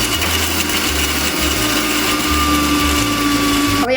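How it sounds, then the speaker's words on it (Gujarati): A kitchen mixer grinder crushes sesame seeds and peanuts for crispy masala bhindi, a loud, steady whirring grind that runs continuously up close and cuts off abruptly at the end. "હવે આપણે તલ, સિંગદાણાને મિક્સીમાં ક્રશ કરી દઈશું"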